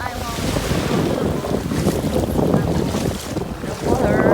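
Strong wind blows steadily across the microphone by the sea on a Maldives island, with a continuous roar of gusts and waves that stays loud throughout.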